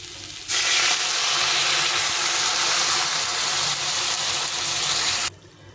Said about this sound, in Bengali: এখন আমি এখানে গরম জল ফুটিয়ে রেখেছি গরম জল একটু দিয়ে ভালো করে সেদ্ধ করে নেব